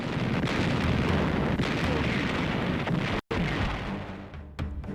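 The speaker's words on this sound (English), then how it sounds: "Surface bombardment of intended landing sites began in earnest on the 26th of March" Heavy naval gunfire pounds the Okinawa landing beaches in a 1945 surface bombardment, a continuous dense rumble of distant blasts and booms with a brief dropout, and no voices.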